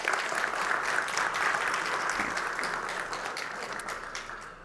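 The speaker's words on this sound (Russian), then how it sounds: "Предлагаю всех нас за это поблагодарить аплодисментами." Conference attendees at a potato-industry technology event give a round of applause, a fairly faint, even spread of many hands clapping that slowly tapers off near the end.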